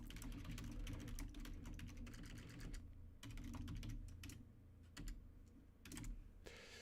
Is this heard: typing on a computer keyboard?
yes